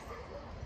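Person imitating an aggressive guard dog with a short barking yelp, a single brief vocal burst close to the mic, quiet overall.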